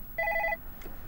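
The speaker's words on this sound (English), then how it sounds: "Your phone is ringing." A telephone gives a single short electronic ring, a few quick pulsed tones at moderate volume over faint room background.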